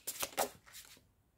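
Tarot cards are shuffled by hand in quick riffling bursts, several soft flutters over about a second before fading out, close and quiet.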